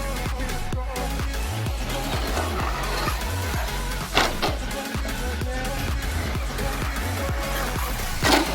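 A Traxxas Slash RC car whines and buzzes continuously at close range, motor revving in repeated surges with occasional tire scuffs and a couple of brief thumps from jumps and landings.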